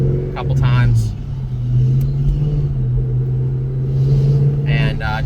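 A 2003 Mustang Cobra with a newly installed clutch cable drives around a neighborhood, its engine holding a steady low drone with a few rises in revs, while people talk in the cabin.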